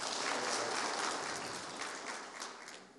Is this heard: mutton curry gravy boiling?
no